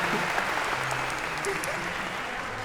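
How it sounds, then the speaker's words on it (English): Lecture hall audience at a CS50 class applauding a volunteer: broad, even applause from a large crowd, continuous and slightly distant, with faint voices mixed in. "A round of applause for Aviva for coming on up."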